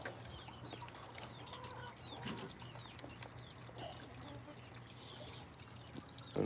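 Water poured out for backyard chickens and a sunflower, a soft continuous trickle with faint bird sounds in the background.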